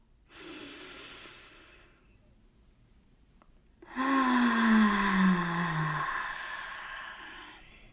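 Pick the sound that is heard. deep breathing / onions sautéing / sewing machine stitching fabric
deep breathing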